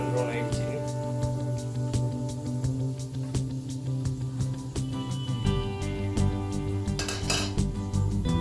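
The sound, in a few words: plate being changed and set down in kitchen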